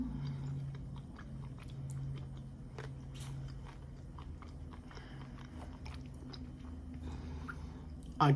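Close, crisp crunching and biting, like someone chewing fresh lettuce, with repeated wet snaps in an uneven rhythm over a low steady hum.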